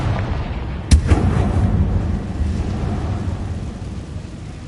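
A Confringo blasting spell explodes in Hogwarts Legacy with one sharp, loud blast followed by a rumbling echo that slowly fades over a low, steady background.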